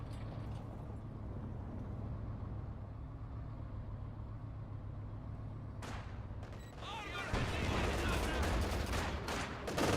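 Gunfire crackles across a Company of Heroes 2 battle with vehicle engines rumbling underneath, and the shooting grows louder and denser in the last few seconds.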